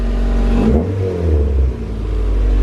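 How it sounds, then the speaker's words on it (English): An Acura Integra engine idles loudly up close, then gets a quick throttle blip that rises and settles back to a steady rumble. "Just blip the throttle"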